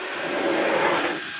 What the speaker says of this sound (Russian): попробуем JRL фен